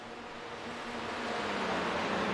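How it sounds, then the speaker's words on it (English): Steady rushing wind noise with a faint engine tone underneath, swelling slightly as a pack of Hyundai race cars climbs the hill at Watkins Glen International in a racing video game. "Hear the wind as they fly up this hill."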